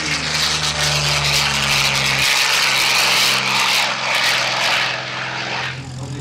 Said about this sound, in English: One by one, the aircraft taxi by, take off, and join up in the air.